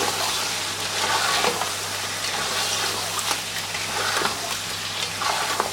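Tomato paste and spices being stirred in a karahi, a continuous loud sizzle with repeated scraping strokes of the spoon, close up and without talk.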